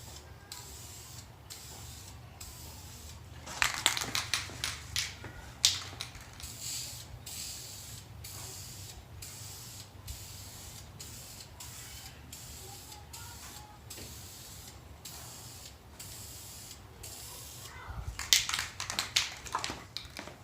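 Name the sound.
blue spray paint being sprayed on charge pipe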